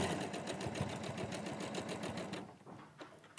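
A sewing machine runs through fabric in a fast, even stitching patter for a couple of seconds, close and moderately quiet, then stops, leaving faint handling noise.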